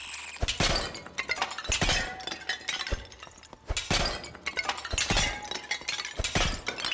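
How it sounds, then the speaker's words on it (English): Clay pots shattering one after another in the dungeon game Dark and Darker, each loud crash followed by clinking fragments, about six breaks spaced a second or so apart with no talk. "Smashing all these pots is going to be a great way for us to make a lot of money."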